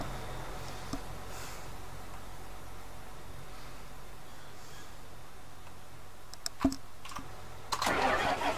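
A tractor engine on a Missouri River bottoms farm cranks and catches late in the clip after a long quiet stretch, with a sharp click and then a brief burst of starting noise near the end, faint and distant.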